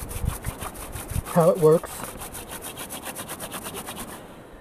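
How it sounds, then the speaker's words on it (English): Friction hand drill spun on soft yucca to burn a hole, a rapid regular rasping rub repeating back and forth, close and steady, with someone briefly speaking over it. "And I'm just going to go for burning the hole in."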